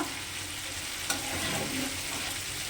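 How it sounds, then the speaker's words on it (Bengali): Chicken fries with spices in a pan, giving a steady, even sizzle with one brief clatter partway through. "দেখতেই পাচ্ছ মশলাটাও ভাজা হচ্ছে আর চিকেনটাও ভাজা হচ্ছে।"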